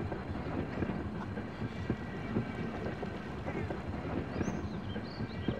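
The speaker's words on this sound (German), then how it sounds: "Jetzt kommt wahrscheinlich der Zug" A train approaching in the emergency-services game Emergency 3, a steady low rumbling roar with wind-like noise throughout, growing slightly with faint higher squeals near the end.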